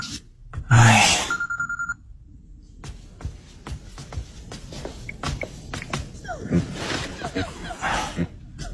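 A telephone bell rings in one loud, brief burst near the start and goes unanswered, followed by quiet rustling, shuffling movement and soft breaths.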